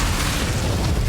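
A fiery blast from the Incendio spell in the Hogwarts Legacy video game: a short, loud, booming burst, close and full-bodied, with a rumbling low end that fills the whole moment.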